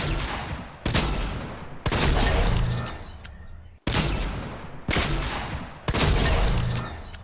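The Heisted Breacher shotgun in Fortnite fires six loud, booming blasts at roughly one-second intervals, each crack trailing off into a short echoing decay, with no talk.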